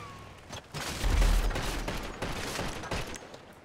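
Rapid bursts of gunfire crackle in a shooting video game match, a dense volley with a deep boom early on, continuing in uneven clusters throughout and fairly loud.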